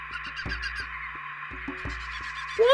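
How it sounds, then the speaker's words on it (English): Repeated honking bird squawks from Playing History 2: Slave Trade, a cluster of short harsh calls over a steady game music drone, then a rising whistle-like cry at the end; no talk. "Look at him, fucking bird!"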